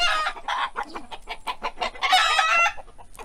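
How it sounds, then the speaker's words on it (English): Chickens cluck in rapid bursts in a Malaysian village, with one leashed bird nearby, close and lively over a few seconds with a short squawking flurry, no talking. "Some chickens here."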